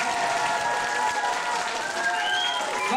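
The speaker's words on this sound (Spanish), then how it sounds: "Jedan još veliki aplauz," A sustained round of audience applause, dense and steady, fills a parish celebration marking 150 years of religious sisters in Croatia and 25 in Tkon, with a faint tonal murmur running underneath.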